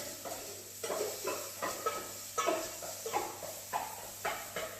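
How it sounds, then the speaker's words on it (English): Softening onions stirred in a pan with a faint sizzle beneath, soft scraping strokes repeating roughly every half second, quiet and close. "keep your eye on those onions, give them a little mix"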